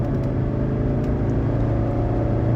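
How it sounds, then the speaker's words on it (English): A 1985 Mercedes 300SD diesel engine accelerating hard on a test drive along a straight road, a loud steady low drone with road and wind rumble heard from inside the car. "This is an awesome engine."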